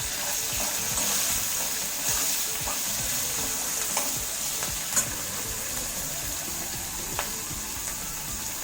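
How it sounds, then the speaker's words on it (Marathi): Green chilies roast in a pan with a pinch of salt, giving a constant close sizzle broken by scraping stirs and a few sharp pops and clinks, with no voices. "आता आम्ही ह्या मिरच्या भाजणार आहोत"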